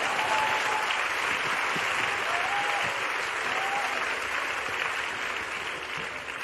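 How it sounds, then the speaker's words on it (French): Dense applause from an audience at a public debate on environmental policy, steady and fairly distant, holding even for several seconds and fading slightly toward the end. "vous pouvez applaudir parce que franchement c'était bien."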